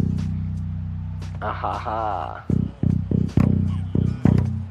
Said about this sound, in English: I want the low B to sound like this.